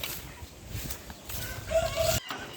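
Light Brahma chickens on a fancy chicken farm in Chauddagram, Comilla, give a few soft clucks and one short, clearer call near the end over quiet farmyard background.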